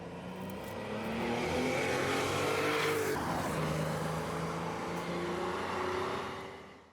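A Porsche 911 Turbo being pushed harder on the road, its engine a steady, loud drone with shifting pitch that builds and holds for several seconds before easing off, with no talking over it.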